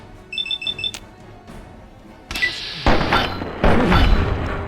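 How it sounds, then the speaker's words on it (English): A pistol fires in Fallout 3: after a quiet electronic beeping, a loud sharp shot bursts out, followed by further heavy impacts and crashing noise close by. "Let's equip the pistol and shoot him in the face."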